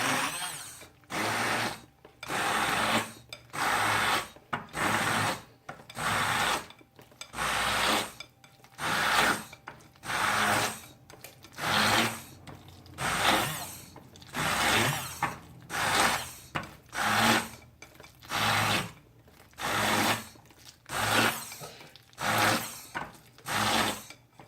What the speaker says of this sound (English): I'm going to be using a stick blender or an immersion blender.